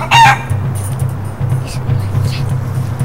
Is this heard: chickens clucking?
yes